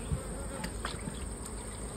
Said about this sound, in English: Yes, I do have some yellow jackets in here.